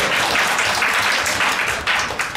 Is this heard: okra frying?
no